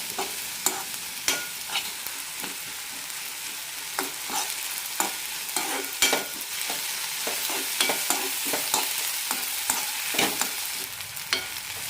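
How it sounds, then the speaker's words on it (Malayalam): Tomatoes for an onion chutney being sautéed in a pan: a steady close sizzle broken by frequent sharp scraping clicks as a spoon stirs the pan, with no talk. "തക്കാളി വെന്തുടയുന്നത് വരെ വഴക്കിയെടുക്കാം"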